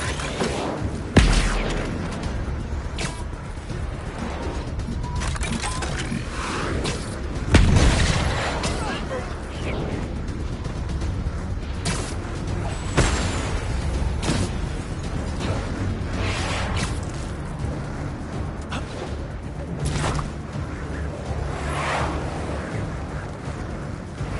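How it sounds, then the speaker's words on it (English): Heavy booming blasts from a railgun in Spider-Man 2, scattered irregularly through a noisy action scene, with a few stronger thumps standing out, under dialogue and a busy game soundtrack. "is that a railgun? That actually works?"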